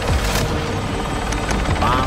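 A helicopter in the Call of Duty Warzone video game gives a steady, loud rotor drone that runs under game noise and faint chatter throughout.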